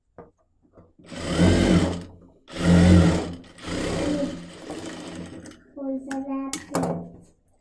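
A sewing machine stitches a kurti in a few loud, close bursts of whirring with short pauses between them, followed by lighter clicks and handling at the end.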